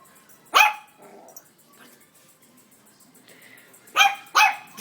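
A pet dog named Mikis barks at home: one sharp bark, then quieter grumbles, then two more loud close barks near the end.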